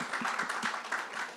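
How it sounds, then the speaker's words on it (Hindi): An audience at the trailer launch event for Panchayat 2 claps in a quick, scattered rhythm, a brief burst of applause close by in a hall. "ताली मारो ना यार"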